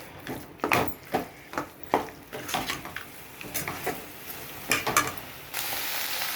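Curry leaf paste frying in oil in a pan: a faint, steady sizzle with irregular scrapes and clinks from stirring, growing into a fuller hiss near the end, with no voices.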